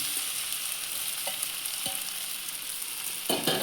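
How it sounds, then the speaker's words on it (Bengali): Rice tipped into a pan of fried potatoes and onions for a simple homemade pulao, sizzling and frying steadily throughout, with a few stirring clinks and a louder burst of sizzle near the end. "আলু পেঁয়াজ ভাজা হয়ে গেছে, এখন ভাত দিলাম"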